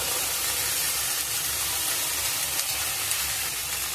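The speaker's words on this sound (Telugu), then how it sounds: "ఇవన్నీ వేసుకొని కొద్దిగా బాగా ఫ్రై చేసుకోవాలి. హై ఫ్లేమ్ మీదనే ఫ్రై చేసుకోవాలి." Steady loud hiss and sizzle of food frying on high flame with tomato, chilli and soy sauces, a dense unbroken roar close up with no talk.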